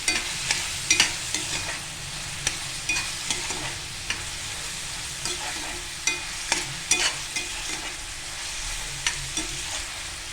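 Paneer kheema being stirred and fried in a pan, with a steady sizzle and repeated scraping strokes of a spoon throughout, close and moderately loud.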